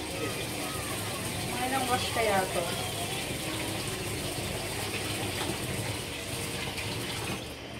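Uncooked rice being rinsed under running water by hand, with a steady broad wash of water and faint grainy rattling and stirring, plus voices talking over it.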